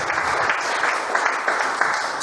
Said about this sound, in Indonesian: beri tepukan dulu untuk tim pujian penyembah dari persekutuan kita